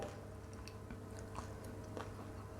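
Crispy fried chili snack being bitten and chewed up close, with a steady run of crunchy bites at an even pace and no talking.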